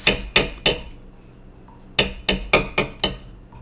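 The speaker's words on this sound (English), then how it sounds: "You can hammer with anything. You don't need a hammer to hammer." Sharp hammer strikes, likely on a hard object, in two bursts: three quick hits, a pause, then five evenly spaced blows, close and loud with ringing decay.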